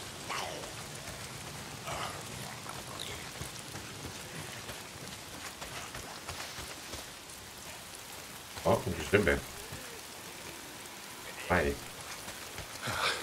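Rain falls steadily in the video game Days Gone, a soft continuous patter heard quietly under a man's speech and short bursts of other game sounds.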